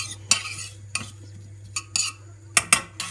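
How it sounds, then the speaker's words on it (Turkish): A spoon scrapes and clinks against a pot in several sharp strokes while sautéing onions, over a low steady hum, with faint sizzling underneath. "Onu tencereme alıyorum. Güzelce kavuruyorum."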